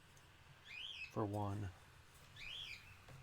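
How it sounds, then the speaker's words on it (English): Two short bird chirps, each a quick rising-and-falling whistle, sound lightly in the background of a room while someone speaks briefly between them. "Sorry about the birds in the background."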